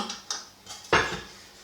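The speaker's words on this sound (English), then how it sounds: "What I'm going to do now is get my basin out of my bread maker." Clattering knocks as the basin is lifted out of a Panasonic SD2500 bread maker: a couple of small taps, then one sharper metallic clunk near 0.9 s with a short ring, close and fairly quiet, no talking.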